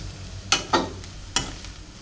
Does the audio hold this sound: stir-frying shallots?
yes